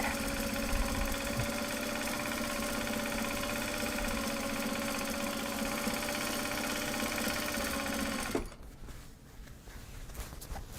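A sewing machine stitches Japanese fabric project bags with a steady, fast mechanical whir and hum, then stops abruptly near the end, leaving faint rustling.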